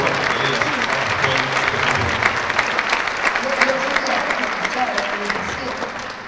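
A large audience at a festival conversation in Arequipa breaks into loud, sustained applause, a dense continuous clapping with some voices mixed in beneath.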